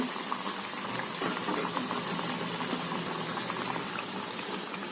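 Vada deep-fries in hot oil with a dense, steady bubbling and crackling that stays even and moderately quiet throughout, with no voices.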